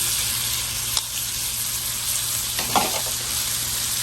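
Orange, red and green bell peppers stir-frying in a Lodge cast iron wok on a Weber kettle grill, a low steady sizzle with a couple of brief scraping stirs, close and without speech.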